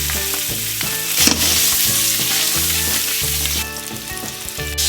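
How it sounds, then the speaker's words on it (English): Sausages frying in olive oil in a hot pot give a steady, loud sizzle that runs throughout, with rhythmic background music playing underneath. "you're going to take your sausage, cook your sausage first, throw them in there."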